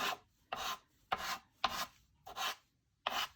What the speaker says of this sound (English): And just rub it in real gently.